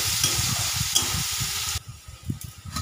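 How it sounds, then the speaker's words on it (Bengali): Onions frying in a pan while being stirred, a busy sizzle with rhythmic scraping strokes that drops sharply in intensity partway through, leaving softer sizzling and occasional stirring knocks. "পেঁয়াজটা একটু লাল লাল করে ভেজে নিই।"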